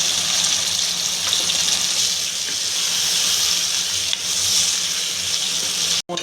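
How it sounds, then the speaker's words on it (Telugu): Tomatoes fry in an open, uncovered pan with salt and turmeric, making a loud, steady sizzle that runs throughout before cutting off abruptly at the very end. "మూత అనేది పెట్టకుండానే టమాటోని బాగా వేపుతూ ఉన్నాను"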